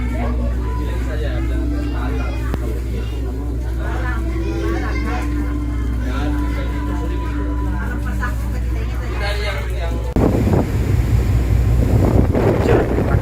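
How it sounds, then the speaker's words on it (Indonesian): Strong wind buffets the microphone and rain pours aboard a fairly fast ferry at sea between Kolaka and Bajoe, a constant loud roar with engine rumble, turning harsher and gustier near the end. "Hujan, anginnya kencang banget."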